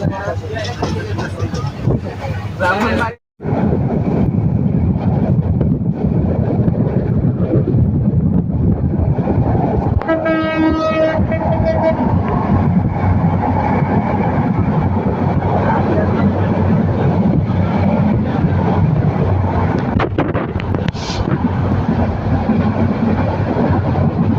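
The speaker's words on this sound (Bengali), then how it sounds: "আমাদের ট্রেন ছাড়ছিল ছাড়া হয়েছে" A Dhaka to Cox's Bazar passenger train pulling out of the airport station: a loud, continuous heavy rumble with wind buffeting, a brief dropout early on and faint voices mixed in.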